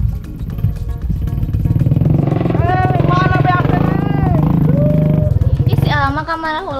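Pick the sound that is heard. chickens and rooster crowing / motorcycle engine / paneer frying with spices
motorcycle engine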